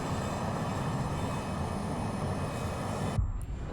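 A Learjet 35A jet in Microsoft Flight Simulator 2024 roars steadily with a broad engine rush, then a sudden thump as it crashes on landing and the sound cuts to a low rumble.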